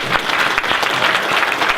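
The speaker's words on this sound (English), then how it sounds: "So I think we need to give Stephen and his colleagues another round of applause" A pub audience at a political talk on anti-protest laws breaks into full, even applause, a steady close burst of many hands clapping with no voices on top.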